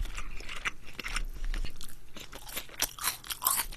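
Close-up chewing of boiled pork slices (suyuk) during a Korean pork and rice soup mukbang, with soft wet crunches and mouth sounds in an uneven rhythm, fairly quiet and without speech.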